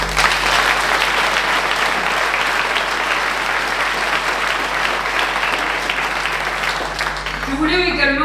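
Audience applause at a town's New Year's greetings ceremony in Viviers, France, honouring local farmers and winegrowers: a dense, steady wash of clapping that stays loud throughout, with a faint low hum underneath and some brief voices near the end.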